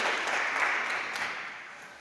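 Applause from a congregation at a Sunday Easter-season Mass, a soft, dense wash of many hands clapping that gradually fades over two seconds.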